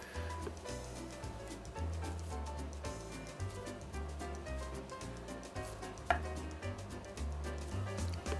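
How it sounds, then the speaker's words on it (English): Chicken thighs wrapped in cling wrap are pounded flat with steady, repeated thuds, a regular low knocking rhythm close by and one sharper hit partway through. "Pounding the meat to a uniform thickness allows for faster and more even cooking"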